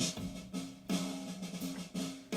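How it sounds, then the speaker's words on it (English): A heavily compressed drum room track from a band mix, with cymbal wash and drum hits blurred into a dense, roomy wall that pulses roughly once a second, played alone without talk. "the only other drum track happening right now is the room track that sounds like this."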